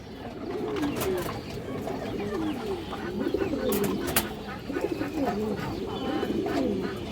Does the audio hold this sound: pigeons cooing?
yes